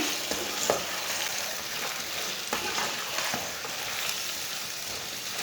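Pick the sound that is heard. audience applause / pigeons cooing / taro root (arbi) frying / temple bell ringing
taro root (arbi) frying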